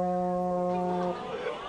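A high school brass band student blows a horn, holding one loud, steady note for about a second before it cuts off, leaving quieter room noise.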